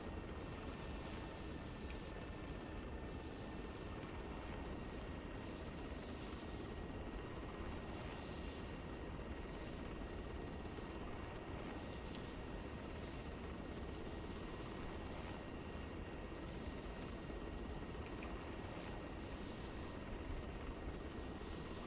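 Helicopter engine and rotor running in the military game ArmA 3, a dense, constant mechanical roar heard from inside the cabin, steady and unbroken throughout.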